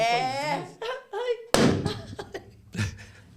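A balloon bursts with a sudden loud pop at a children's clown show, cutting across voices and followed by reactions and laughter.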